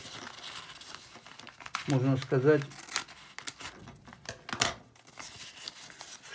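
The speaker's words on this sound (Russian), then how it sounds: "Теперь мы берем газету, берем ножницы и вырезаем себе" Newspaper being cut and handled with scissors, close crisp snips and crinkling paper rustles in bursts, with a brief spoken word in the middle.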